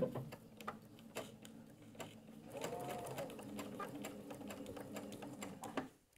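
A sewing machine runs a straight stitch along the binding of a pair of house slippers, its steady mechanical whirr punctuated by rhythmic ticks and clicks, close and moderately quiet, stopping near the end.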